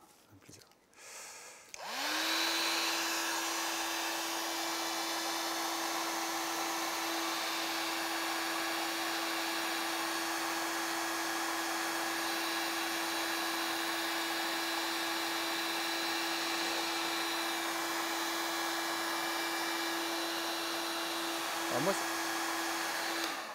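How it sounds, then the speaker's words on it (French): Hair dryer blowing over a wet fluid acrylic pouring painting on a fresh white base, switching on with a rising whine and then running as a steady, close, continuous hum and rush of air. "on va mettre du sèche-cheveux partout pour figer au maximum l'œuvre"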